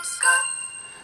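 LG G2 ringtone of a boys' choir singing, a brief bright chime-like tone that swells and then rings out with sustained high notes, fairly quiet and heard alone.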